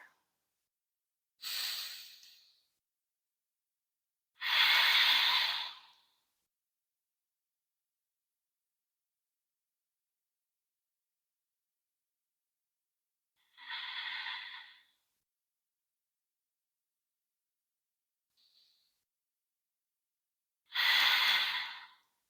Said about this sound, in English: We'll practice 3 more rounds of our breath here.